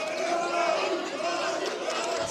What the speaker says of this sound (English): We're getting the Kyle cheer again